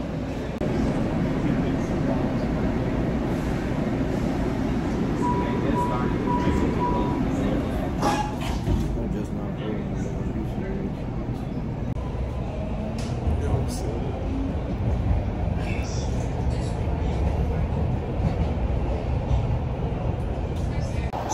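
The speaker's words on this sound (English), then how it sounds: "We're on the train." Inside a moving Atlanta metro train: a continuous low rumble and rattle of the car running along the rails, with people talking over it throughout.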